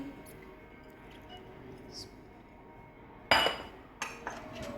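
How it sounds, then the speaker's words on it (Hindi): Canned fruit cocktail tipped into a bowl for Russian fruit salad, heard as a sudden wet, clinking pour and a couple of shorter splashy knocks of fruit and syrup, close by after quiet room tone. "सबसे पहले आप फ्रूट कॉकटेल डालें"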